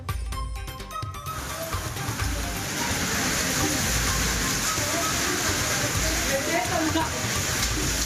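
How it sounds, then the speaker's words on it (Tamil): Heavy hailstorm with strong winds over Chennai and its suburbs, a loud, dense roar of pounding ice and rain that fills the whole clip at steady strength, with a brief quieter, broken stretch at the start. "சென்னை மற்றும் புறநகரில் பலத்த சூறை காற்றுடன் ஆலங்கட்டி மழை."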